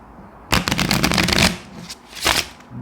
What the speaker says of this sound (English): Can you hear that card on card swishing sound?